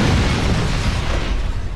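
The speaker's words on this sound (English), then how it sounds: "When you hear an explosion," A layered explosion from The Incredible Hulk: Ultimate Destruction, a dense, sustained roar of fire, glass and metal debris with heavy low-end rumble, loud and continuous throughout with a slight fade at the end.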